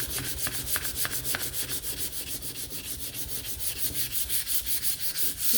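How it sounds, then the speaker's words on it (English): Rhythmic back-and-forth sanding strokes smooth dry paint on a round painted wooden Christmas tree sign, close and fairly quiet, with a steady repeating scrape and no talking. "I haven't sanded this side yet"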